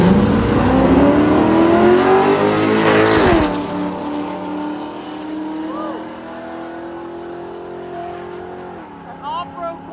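An off-road C4 Corvette and an F-body launch side by side down a drag strip, engines roaring loud and close, rising through the gears and fading into the distance, with voices in the background.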